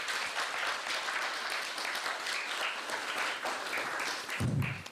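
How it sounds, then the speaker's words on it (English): Temple audience applauding a visiting Maharaj at a Dallas temple gathering, a dense, even patter of clapping held for several seconds, fairly quiet, with a brief low thump near the end. "Let's please give Maharaj one more round of applause."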